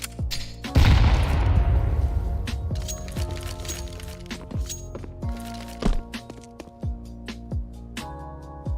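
A grenade detonates in Counter-Strike 2, a heavy low boom that bursts out loudly near the start and rumbles away, followed by scattered game clicks and footsteps.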